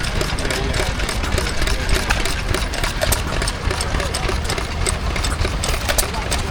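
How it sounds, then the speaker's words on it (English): A Lister A-type stationary engine drives a Bamford No. 0 rapid grinding mill at a country show, giving a steady loud chugging and mechanical rattle throughout, with people talking over it. "Here's a Lister A-type. Powering a flour grinder, a Bamford number O rapid grinding mill."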